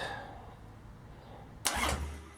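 A Harley Davidson XLH Sportster engine cranks in a sudden loud burst after a quiet stretch, with a rough broadband churn near the end.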